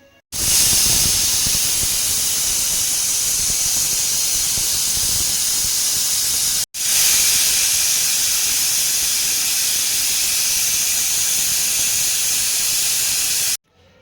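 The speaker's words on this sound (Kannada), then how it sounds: "ಈಗ ಇದನ್ನು ಕುಕ್ಕರ್ ಕ್ಲೋಸ್ ಮಾಡೋಣ, 2 ವಿಸಿಲ್ ಹೊಡ್ಸೋಣ." A pressure cooker cooking tomato bath lets off two long, loud, steady steam whistles, each a harsh continuous hiss lasting several seconds with a brief gap between, heard up close and alone.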